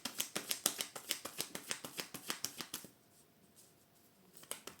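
A Light Years Tarot deck is shuffled and cut by hand, with a quick, regular run of crisp card riffles close up, then a pause and a couple of final taps.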